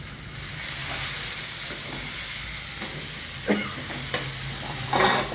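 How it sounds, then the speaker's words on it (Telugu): Bitter gourd curry being stirred in a pan, a continuous low sizzle with a few scraping and clinking stirs near the end. "ఇప్పుడు కూరను కలుపుదాం"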